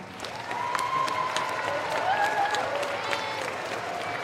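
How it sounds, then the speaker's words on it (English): A crowd at a city swim meet awards ceremony gives sustained applause in a large, echoing space, with faint tonal sounds underneath and the clapping holding steady throughout. "Let's give them a big round of applause."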